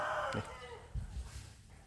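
Chickens in a large pen give a brief cluck and crowing call, followed by a few soft low clucks, fairly close and alone.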